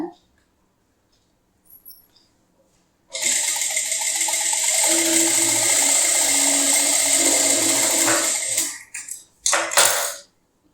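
Power sewing machine running long stitches, a steady loud motor whir and rattle lasting several seconds after a quiet start, stopping abruptly with a few short bursts after.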